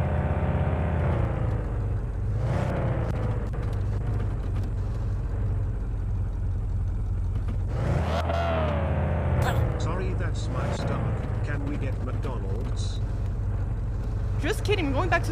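A car engine hums steadily as the car drives along in a horror video game, its tone shifting as it speeds up, under near-constant speech from a player.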